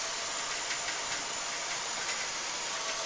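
A Caterpillar D8 dozer engine pulls uphill in gear, a steady broadband mechanical roar with a constant high whine and little variation in level throughout.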